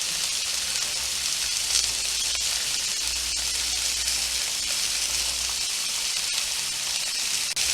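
A steak sears in a hot pan after a quarter turn, giving off a steady, bright sizzle that holds evenly throughout with no talking.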